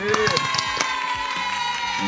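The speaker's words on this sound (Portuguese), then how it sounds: "tem até salva de palmas" A studio audience cheering and applauding to welcome a guest: a dense burst of whoops, shouts and clapping, fairly close and lively throughout.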